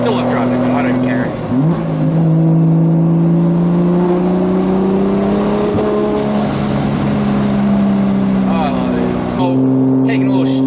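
Modified Toyota Supra running on E85 fuel, engine droning steadily at near-constant cruise inside the cabin, pitch rising gently and easing off mid-drive with a brief dip near the start; someone talks over it.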